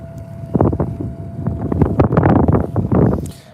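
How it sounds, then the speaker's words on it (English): Strong wind buffets the microphone aboard a fishing boat on Lake Superior, loud gusty rumbling bursts that rise and fall in waves, with no voices. "This wind just will not quit."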